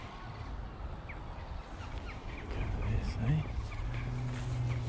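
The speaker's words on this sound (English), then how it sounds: "Big chicken in the woods." A large fowl, like a big chicken, gobbles in London woodland during a foraging outing, a few short calls rising over steady outdoor background noise, moderately near.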